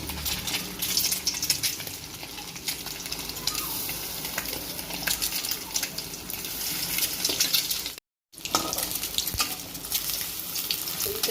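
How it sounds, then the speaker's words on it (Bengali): Steady crackling sizzle of cornflour-coated eggs frying in hot oil, with occasional stirring scrapes and a brief silent gap near the end. "এই যে কর্নফ্লাওয়ার মাখা ডিমগুলো আমি এখন তেলের উপরে দিয়ে ভেজে নেবো"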